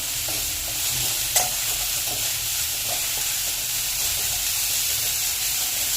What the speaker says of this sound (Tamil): அப்படியே ஃப்ரை பண்ணுவோம்.